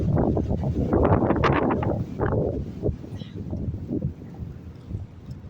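Wind buffets an outdoor microphone in heavy, irregular gusts of low rumble, loud at first and then easing slightly without dying away.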